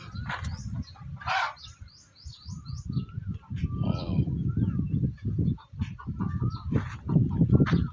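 Domestic chickens around a rural Thai farmhouse, clucking and chirping in scattered calls over a low rumbling background, with a voice talking in between.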